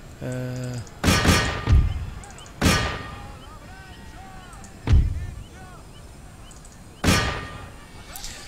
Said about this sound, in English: It's mainly now mop-up time for the artillery, I would say.